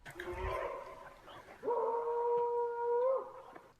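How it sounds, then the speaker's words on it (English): A dog howling in the woods: a rough opening call followed by one long sustained howl, moderately distant, with no talk over it. "Oh, that's a dog right there."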